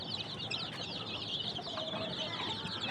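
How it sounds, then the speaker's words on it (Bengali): A flock of native chicken chicks, about eight to ten days old, cheep continuously in a dense chorus of overlapping high peeps at moderate distance. "এই যে আমার মুরগির বাচ্চাগুলো আলহামদুলিল্লাহ, এগুলো আজকে 8-10 দিন চলতেছে"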